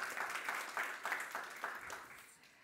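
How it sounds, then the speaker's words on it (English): An audience at a conference on EU forest-based industries applauds a panel. The clapping is soft and distant, with rolling bursts that fade toward the end. "And yes, a round of applause"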